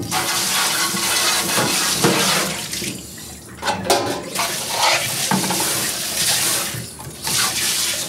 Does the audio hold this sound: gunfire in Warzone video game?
no